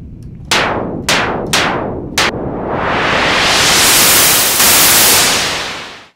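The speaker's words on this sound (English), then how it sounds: "turn all of our oscillators off and the only thing we wanna have on is noise" White noise from a Monarch synth in Reaktor 6 with all oscillators off: a few sharp noise bursts with quick decays, then a long loud hiss swelling as a filter sweeps open before fading out, alone without talk.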